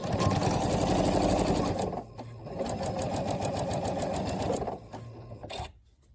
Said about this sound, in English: So we're going to sew those 2 units together now.